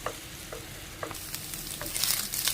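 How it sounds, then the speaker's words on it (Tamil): Egg seasoned with salt and pepper sautéing in a pan for chicken gravy noodles, a continuous close sizzle with periodic scraping stir strokes and no talking. "நல்லா மிக்ஸ் பண்ணி விடலாம். முட்டை நல்லா வதங்கி வரட்டும்"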